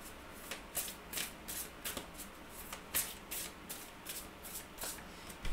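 Quantum Oracle cards being shuffled by hand in a quiet room, a close, soft run of riffling and sliding bursts in an uneven rhythm, with no voices.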